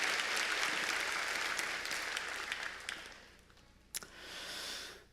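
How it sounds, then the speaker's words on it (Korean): Congregation applause during a Korean Sunday church service, a sustained wash of clapping that gradually thins and dies away, followed by a brief knock and low murmur. "모든 분들께 우리 감사의 박수 드리겠습니다"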